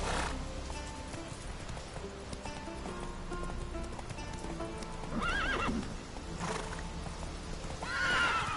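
Roach, a horse in a video game, trots with close rhythmic hoofbeats and lets out several whinnies, the loudest near the end, with someone briefly speaking.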